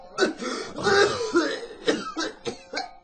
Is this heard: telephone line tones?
no